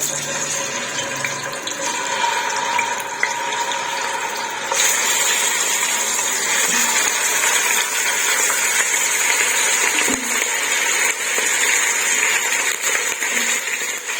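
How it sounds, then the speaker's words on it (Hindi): Chicken pieces drop into lightly heated oil in a karahi for an Afghani chicken karahi, and a steady hiss of sizzling rises and grows noticeably louder partway through, continuing close and unbroken with no voices. "तो तेल हमारा हल्का सा गरम हो चुका है। अब हम इसमें डालेंगे चिकन।"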